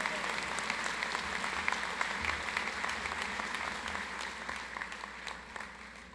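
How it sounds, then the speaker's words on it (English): A commencement-ceremony audience at Roane State Community College applauds Academic Achievement Award winners, dense sustained clapping from a large crowd that holds steady throughout and eases slightly toward the end. "Please join me in giving a round of applause for our Academic Achievement Award winners."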